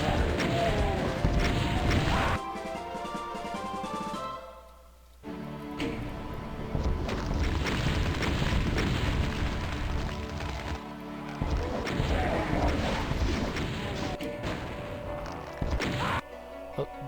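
Rockets blast and crash repeatedly in a first-person shooter map called Alpha Centauri Map07, loud dense impacts layered with game music and effects, with a brief lull midway.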